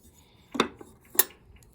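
An antique glass tube from a late-1800s or early-1900s bubble level is handled, giving two short, faint glassy clinks about half a second apart.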